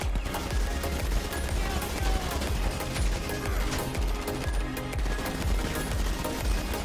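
Rapid automatic gunfire in GTA V Online, a dense, continuous volley of sharp shots and bursts rattling on for several seconds, loud and close with no talking over it.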